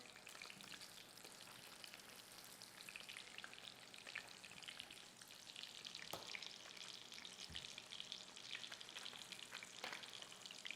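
Chicken browns in a pan for a katsu curry sandwich, giving a steady, faint crackling sizzle with occasional soft pops and clinks and no talking.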